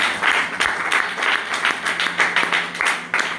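A church congregation claps and cheers in praise of the Lord, with steady, close applause in an uneven rhythm and scattered voices rising through it.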